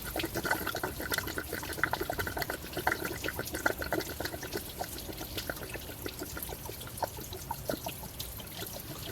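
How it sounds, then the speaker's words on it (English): Engine coolant draining from a pried-back water pump on a 2007-2011 Toyota Camry 2.4, a steady trickling and splashing flow of liquid, close and moderately quiet, continuing throughout. "Pry the water pump back a little bit. Let the coolant flow."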